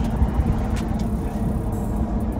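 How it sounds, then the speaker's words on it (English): A Chevy box truck on a test drive, heard from inside as a steady low engine and road rumble, continuous and fairly loud with no talking. "Taking it for a test drive"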